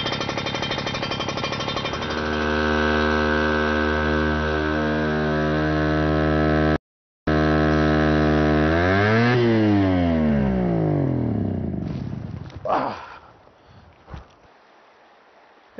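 A fire pump engine is pushed to full throttle, making a loud steady harsh roar. Its pitch swoops and sags near the end, then the engine sputters and dies away.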